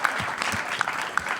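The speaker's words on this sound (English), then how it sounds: "big round of applause for all of you" Live audience at a podcast's 500th episode show claps steadily for a brief moment, a dense, moderately loud patter of many hands.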